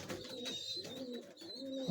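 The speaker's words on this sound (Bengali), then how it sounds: "এটা একটা নর কবুতর।" A male Pakistani Chapra pigeon of Sialkoti bloodline coos steadily at close range, a low throaty rolling murmur repeating without pause, with faint higher twittering from other birds in the background.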